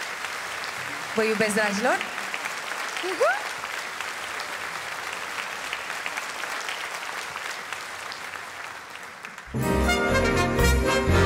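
Concert audience applause at an extraordinary Christmas carol concert at the National Opera, with someone speaking warmly over steady clapping at the start, then a loud burst of music breaking in near the end.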